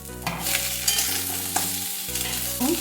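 Potato and papaya pieces added to reddened chopped onion in a frying pan, a close, steady sizzle with stirring clatter and a few sharper scrapes, no talking.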